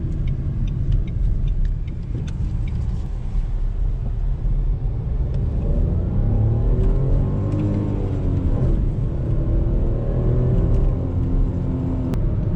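A Renault Clio 5 with the 1.0 SCe engine pulls at full throttle, heard from inside the car: a steady, loud engine drone whose pitch climbs through the second half as revs build.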